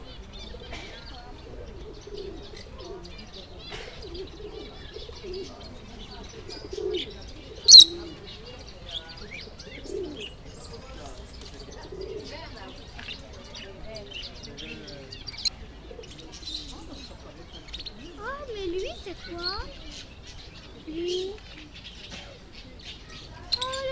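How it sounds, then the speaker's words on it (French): Pigeons coo softly at intervals amid scattered chirps at a Paris bird market, with a brief burst of wing flapping and faint background voices. "C'est des pigeons."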